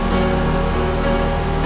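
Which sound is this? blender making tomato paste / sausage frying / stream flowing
stream flowing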